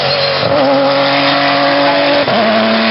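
A Ferrari 458 race car screams past on a hill climb course at Ilirska Bistrica, its loud, high engine note holding steady and then dipping briefly as it shifts gear, close and with no voices.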